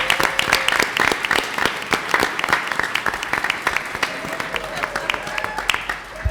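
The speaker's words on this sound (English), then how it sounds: "So we all deserve to give you all a round of applause." Audience applause at a school district board of trustees meeting, a steady spread of claps lasting several seconds, with scattered voices and cheers mixed in.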